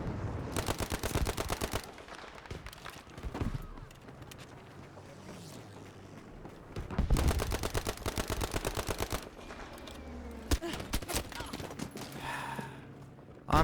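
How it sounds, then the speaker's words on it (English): Rapid automatic bursts from an MP-34 submachine gun in the shooter game Battlefield V, with two long loud strings of fire separated by quieter shots and ambient battlefield noise. "MP-34 submachine gun."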